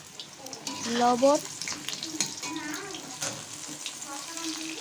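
Potato pieces fry in a wok still oily from frying kokila river fish, a steady crackling sizzle with watery bubbling that swells near the start, while a person speaks briefly over it.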